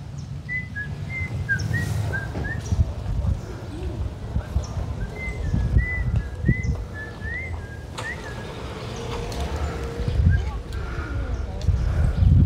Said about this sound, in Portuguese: Cavalo passando aqui.